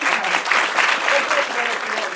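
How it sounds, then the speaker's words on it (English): An audience clapping for a conference panel on career trajectories, a dense, even burst of applause close by, sustained for a couple of seconds with no voices. "I just want to give a round of applause to the panel"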